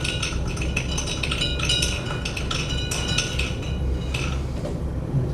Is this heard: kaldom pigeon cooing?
no